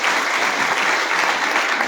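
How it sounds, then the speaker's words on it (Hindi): Loud, dense applause from a large seated crowd at a business leader's welcome event, a steady wash of many hands clapping with no pause. "पर जोरदार तालियां सभी बहनों के लिए।"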